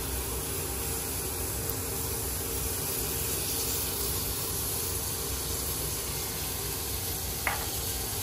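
Mustard oil sizzles in a cooking pan, ready for bottle gourd peels: a steady, loud, close hiss that holds evenly throughout with no voices over it.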